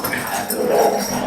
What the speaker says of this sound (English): so sorry if you can hear them barking